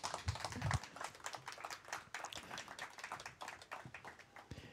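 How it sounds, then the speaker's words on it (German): Applause from a small audience at a podcast stage event: quick, uneven hand claps that start with a few louder strikes and settle into a steady scattering of clapping, heard close and without voices. "Bitte Applaus!"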